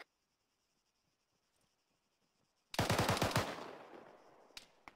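Automatic weapons fire in an Arma III battle for a hill: a rapid burst of loud, close shots rings out after a quiet stretch, then a ringing decay and a couple of later single cracks.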